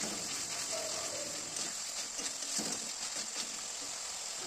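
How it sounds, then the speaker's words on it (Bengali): Spices frying in a kadai over a high gas flame, a soft steady crackling sizzle with faint stirring bumps, fairly quiet and without talk. "গ্যাসের ফ্লেমটাকে জোরে দিয়ে এবার মশলাগুলোকে ভালো করে কষিয়ে নিতে হবে।"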